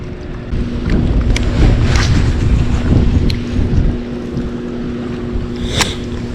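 Wind gusting across the Catawba River during kayak fishing, a steady loud rushing roar with buffeting low rumble and faint water splashes, no talking.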